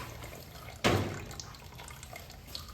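Water suddenly gushes out while an Allis Chalmers CA tractor is drained, a loud splashing burst that fades into a steady trickle and drips.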